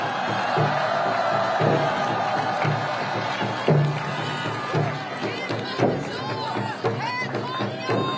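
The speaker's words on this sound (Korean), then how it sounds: "여러분, 큰 박수 보내주시기 바랍니다." At an outdoor presidential campaign rally at Seoul City Hall, a large crowd cheers and shouts continuously for several seconds while an amplified voice speaks over the noise.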